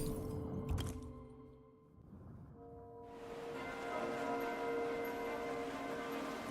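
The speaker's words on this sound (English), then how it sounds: "We can actually hear the bells." Bells ring in the video game Silver & Blood, first as a low rumbling swell and then as sustained, layered ringing tones that fill the second half of the clip. No voices are heard.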